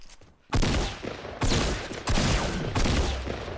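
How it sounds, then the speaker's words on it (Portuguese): Four loud, close gun blasts in the Fortnite video game, spaced roughly a second apart, each a sharp broadband crack with a short decaying tail, after a quiet start. "Dei dois tiros de 12 no rabo dele."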